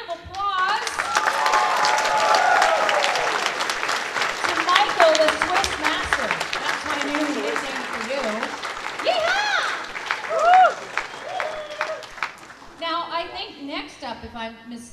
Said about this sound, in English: Round of applause to Michael, the Swiss master.